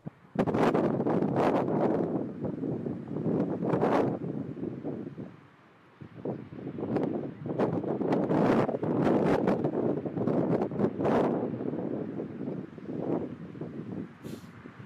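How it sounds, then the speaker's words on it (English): Strong wind buffets the microphone in loud, rough gusts, briefly dropping off mid-way before roaring back, with no talking. "I want to give you an idea how windy it was"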